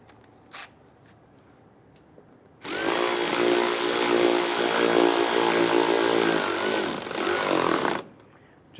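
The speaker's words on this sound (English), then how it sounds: "Now we can go ahead and install these screws." A power tool drives screws into rear trim molding on a 2011-2019 Ford Explorer, a steady loud whirring run of about five seconds with no talk, following a brief click.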